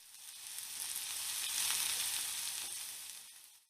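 Vegetables sautéing in a pan while a mussel soup is cooked, a steady soft sizzle that swells gently and fades, close and alone with no talking.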